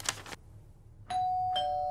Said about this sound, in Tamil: யாரோ காலிங் பெல் அடிக்கிறாங்க, நான் பார்த்துட்டு வந்துடுறேன்.